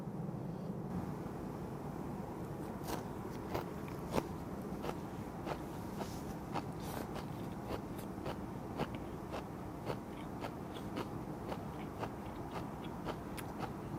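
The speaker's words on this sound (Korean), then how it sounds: "무치 아삭한 식감을 혹시나 기다리고 계신 분이 계시다면" Crunchy seasoned radish being bitten and chewed at a seafood meal, with a steady run of crisp crackling crunches spaced about every half second, close and fairly loud, with no talk.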